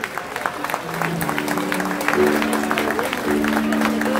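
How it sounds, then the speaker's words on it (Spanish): An audience at a lucha libre wrestling event applauds, the clapping swelling after a second and holding steady, mixed with sustained musical tones and a murmuring crowd. "Un fuerte aplauso para ellos,"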